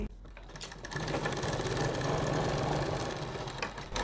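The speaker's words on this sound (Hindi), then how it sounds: "अब यहाँ पर हम सिंपली एक सिलाई लगाएंगे ताकि आपका बुकरम खुले नहीं" Sewing machine running a quick tacking stitch through buckram for a round kurti collar, a fast steady mechanical whir and rattle close by, starting after a brief pause and running continuously.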